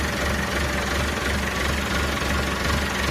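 A farm tractor's engine running close by with a dense, steady rumble and rhythmic knocking throb, loud and unbroken, with no voices.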